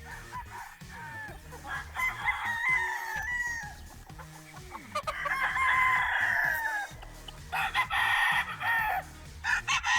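Several sweater gamefowl roosters crow in long, overlapping calls, some nearby and some farther off, with occasional clucks in between.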